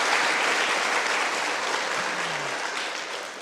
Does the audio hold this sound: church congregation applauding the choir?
yes